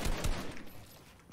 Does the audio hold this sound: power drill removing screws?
no